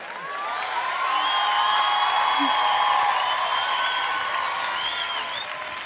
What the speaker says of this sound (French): Applaudissez pas ça, applaudissez pas ça!